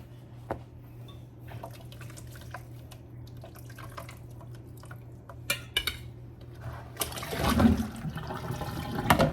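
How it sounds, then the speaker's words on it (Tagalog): Hot water is poured off a pot of cooked beef and broccoli in a kitchen, starting with faint drips and clinks and ending in a loud, splashing gush of draining water near the end. "Tanggalin ko na yung tubig."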